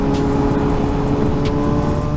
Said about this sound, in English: the engine sounds just as good, just as strong and solid as when I first bought it